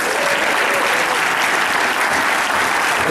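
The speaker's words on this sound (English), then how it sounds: "Give him a round of applause, folks." Loud, sustained applause from a crowd, dense clapping with no pauses throughout.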